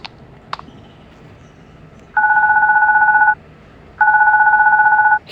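A phone rings in a video game, two long electronic warbling bursts a second or so apart, loud and clean over a quiet background.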